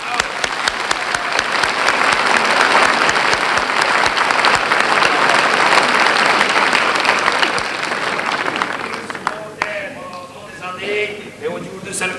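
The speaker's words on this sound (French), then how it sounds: "Nous les applaudissons tous en bloc." Loud, dense applause from a music-hall audience fills the room for about nine seconds, then thins to scattered claps and brief voices near the end.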